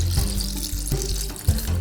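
Water gently poured into a jar holding rocks for a homemade rain gauge craft: a close, steady trickle and splash lasting under two seconds, with a small gurgle near the end and no talking.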